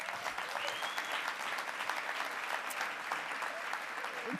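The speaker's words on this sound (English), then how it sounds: "Give Kristen a round of applause." Dense, steady applause from an audience at the NYWICI 2017 Matrix Awards gala in the Sheraton Times Square Hotel ballroom, sustained and even for the full stretch without any break.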